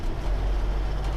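Grain-hauling trailer truck driving off-road across farm ground: a continuous low engine rumble with a rough, dense texture, close and steady for the whole moment, no voices.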